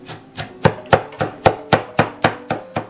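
Small hatchet finely chopping half an onion for kefir pirozhki, with about ten crisp, close, evenly spaced chops landing in a quick steady rhythm of roughly four per second, with no talk.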